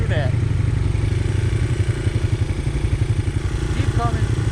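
Dirt bike engine droning steadily while riding a forest trail in Uwharrie National Forest, a continuous close motor hum with slight pulsing, with faint speech in the background.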